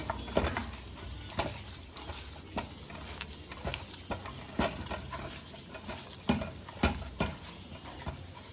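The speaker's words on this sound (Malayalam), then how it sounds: "ശരിക്കും കൈക്ക് ഒന്ന് നല്ലോണം മിക്സ് ആക്കണം" Chicken peera ingredients mixed and squeezed by hand in a bowl: quiet, irregular soft squelches and pats repeat steadily at close range, with no voices over them.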